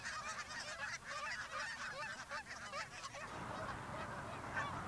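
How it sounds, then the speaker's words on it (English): A flock of lesser Canada geese honks continuously, many overlapping calls forming a dense, loud chorus that carries on steadily throughout. "These are lesser Canada geese."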